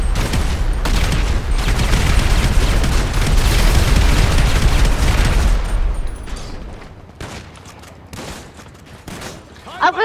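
Dense, loud bursts of rapid gunfire fill a GTA Online shootout for several seconds, then give way to a few scattered shots while players talk.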